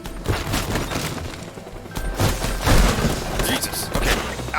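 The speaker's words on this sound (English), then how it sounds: "We're ducking some gunfire tonight." Rapid bursts of gunfire and heavy thumps from the video game Teardown crackle in repeated volleys, loud and close, with a person talking over them.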